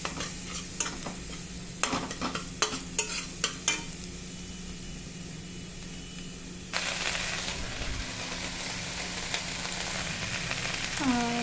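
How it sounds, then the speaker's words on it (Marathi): Vegetables are stir-fried in a pan, with sharp spatula scrapes and knocks over a steady sizzle, then a louder burst of frying hiss that continues to the end. "आता हे छान असं परतून द्यायचं 1 मिनिटभर छान असं परतून द्यायचं"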